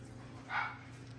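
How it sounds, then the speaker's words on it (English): Pet dog Nala barks once, a short muffled burst from another room, over a steady low background hum. "I'm gonna go let the dog in because Nala's barking."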